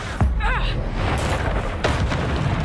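Expulso explosion spell blasts in Hogwarts Legacy, two sharp booming bursts about a second and a half apart over game noise, with a voice speaking between them.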